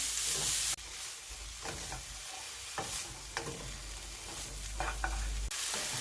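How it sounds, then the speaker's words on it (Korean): Sweet potato stems and garlic being stir-fried in a pan give a steady sizzle and hiss, with repeated scraping stirs of a utensil close up. "이렇게 살짝 볶다가"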